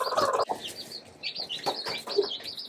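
A broody Welsummer hen clucks in short, close bursts, with several soft calls spread unevenly across a few seconds and a louder burst at the start.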